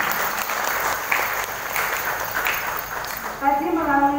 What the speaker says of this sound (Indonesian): Tepuk tangannya untuk kita semua.